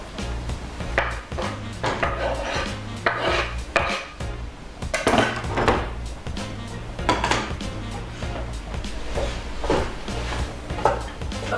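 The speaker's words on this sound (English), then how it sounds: "that's the last of the onion going in the pot now" Chopped onion tipped into a cooking pot, with repeated clattering of a utensil against the pot and scraping thuds in an irregular rhythm, close and moderately loud, no speech.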